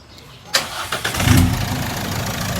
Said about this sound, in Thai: สต าร์ทเครื่องยนต์